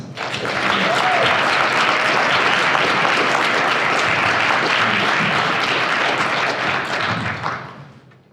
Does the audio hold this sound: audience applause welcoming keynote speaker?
yes